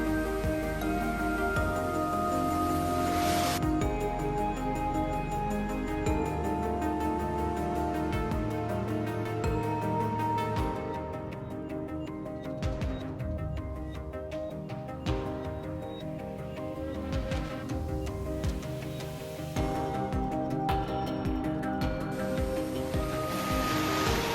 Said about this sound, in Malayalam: ഇതാണ് ചെളിക്കുഴി വാട്ടർഫാൾസ്.